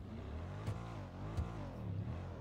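A video game car engine revs steadily and hums loudly for a couple of seconds, with brief swells in pitch and no talking.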